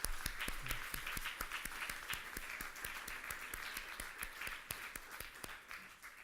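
Conference audience applauding Professor Charles O'Brien at the ALBATROS 2018 congress. Steady, sustained clapping from a large crowd, with sharper individual claps standing out near the front.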